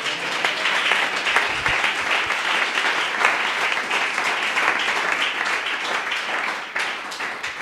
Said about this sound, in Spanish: Dele un aplauso a la gloria de Dios.